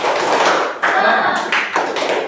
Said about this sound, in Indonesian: mari kita sama-sama mempraktekkan tepuk semangat.